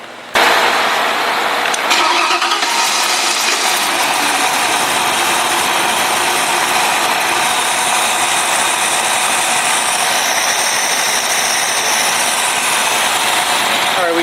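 A Ford 331 stroker engine runs loud and steady from the start, a dense, continuous roar with slight rises as it is revved, close up and alone without voices.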